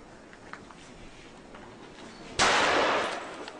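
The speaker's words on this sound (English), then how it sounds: "This is the shot that kills James." A single sharp gunshot cracks out loudly in a war zone in Gaza after a quiet stretch of faint background noise, its report decaying over the following second.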